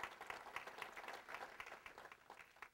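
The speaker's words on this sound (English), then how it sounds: "She deserves a big round of applause" An audience at a loan seminar applauding, a short burst of faint, distant clapping from a crowd.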